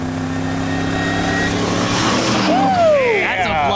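A supercharged Chevrolet Camaro roars past at a drag strip, its loud engine rising and then dropping in pitch as it flies by, with excited voices and cheering over the noise.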